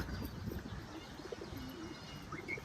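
Pigeons coo softly in low, repeated throaty calls, with a few chirps and faint background noise throughout.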